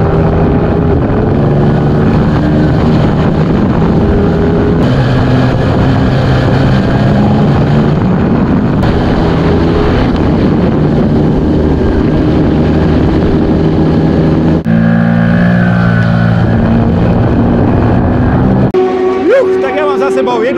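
A 2022 Ducati Monster motorcycle runs laps on the Slovakia Ring race track, its engine a steady, continuous drone throughout while someone talks over it.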